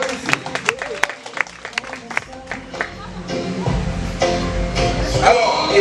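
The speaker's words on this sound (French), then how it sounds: "Vous applaudissez, applaudissez, applaudissez." Wedding guests at a villa applaud the newly married couple, starting with scattered individual claps that build into fuller crowd clapping and cheering, with voices mixed in toward the end.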